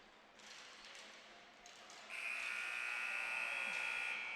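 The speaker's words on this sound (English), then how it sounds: "Ball is rolled wide just as the final buzzer goes" A final buzzer sounds at a U17 boys' ball hockey game between NL Selects and New Tecumseth Xtreme, a steady electronic tone that starts about midway and holds to the end over distant arena noise.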